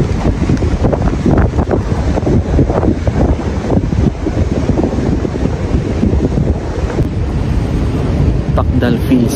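Heavy wind buffets the microphone while riding a horse, loud gusty low-frequency rumbling throughout, no pauses, with an outdoor roar underneath.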